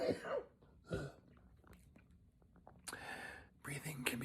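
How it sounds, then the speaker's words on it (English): A person with stage 4 lung cancer gives a couple of short, harsh coughs, then breathy throat noises and another burst of coughing, close and fairly quiet. "This cough fucking sucks"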